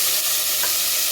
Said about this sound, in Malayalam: ഇനി നമ്മൾ പാൻ ചൂടാക്കി വെച്ചിട്ടുണ്ട്. അതിലേക്ക് വെളുത്തുള്ളി ഇഞ്ചി പേസ്റ്റ്